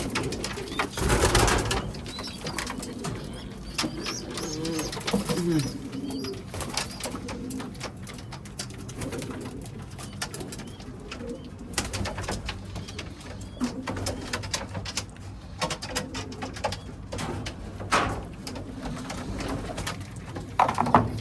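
Damascene pigeons coo repeatedly in soft, low, throaty phrases from nearby, with scattered rustles and small knocks from the loft between calls.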